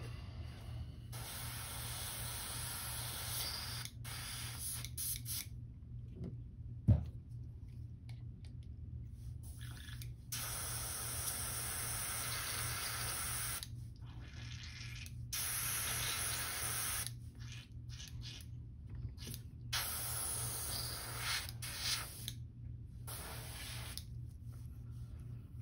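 Airbrush spraying paint onto a crankbait fishing lure, a faint steady hiss running in long stretches broken by brief pauses, with a low hum beneath.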